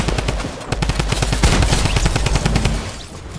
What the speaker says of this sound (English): Oh, he's got the drum gun.